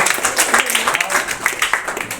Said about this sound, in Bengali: এটার জন্য একটা বড় হাততালি হবে।